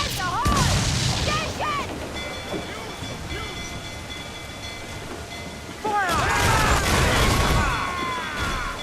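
Ship cannons firing in Assassin's Creed 4 Black Flag during a naval battle: deep booming volleys at the start and again near the end, with shouting crew voices and rushing sea ambience between.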